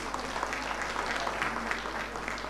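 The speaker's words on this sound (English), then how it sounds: "I think you deserve to give yourselves a round of applause for the attendance" Audience applause at a tax administration conference in Mandeville, Manchester, a steady wash of many hands clapping heard from a distance, dense and continuous with faint room hum beneath.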